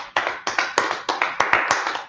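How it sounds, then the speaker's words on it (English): Steady, evenly spaced clapping from an audience at a gathering in a religious meeting hall, about nine sharp, close claps in a regular rhythm with no voices. "Let's clap it up for the Lord."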